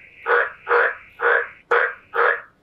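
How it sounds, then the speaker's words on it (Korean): AI-generated frog croaking sound effect, five loud, evenly spaced harsh croaks, close and isolated with near silence between them. "개구리 소리가 나고요."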